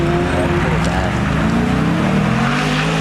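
A Mercedes G-Wagon accelerates hard at an outdoor car show, its engine roaring loudly and steadily under a crowd's shouting and chatter.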